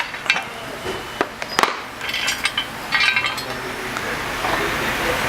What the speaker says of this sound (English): we can remove our gear side housing half.